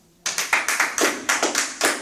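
A church congregation claps to acclaim Jesus, about a dozen crisp, evenly spaced hand claps in a quick rhythm, loud and close, with no talking.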